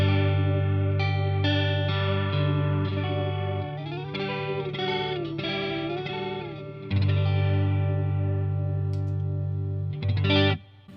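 Electric guitar played through a modulation pedal set to double time, giving a fast wobbling chorus-like shimmer over sustained chords and bends, loud and continuous with no talking.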